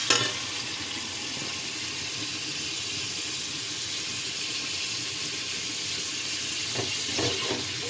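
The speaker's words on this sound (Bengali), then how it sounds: "এদিকে পেঁয়াজগুলো ভালো করে কষিয়ে নিচ্ছি" Chopped onion, garlic and ginger fry in hot oil with a steady, broadband sizzle that holds evenly throughout, joined by a few soft stirring clinks near the end.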